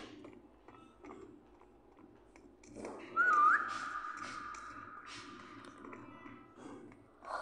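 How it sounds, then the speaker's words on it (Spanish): A person whistles a single rising then long sustained note, fairly clear above a quiet indoor background, followed by a brief sound near the end. "mi primer chiflo estuvo muy extraño"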